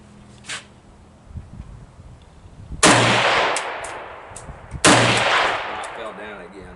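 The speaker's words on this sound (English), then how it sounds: "We got about 3 shots left" An AK-47 rifle fires at an outdoor shooting range, two loud sharp shots about two seconds apart, each with a ringing tail, after a quieter stretch with faint background noise.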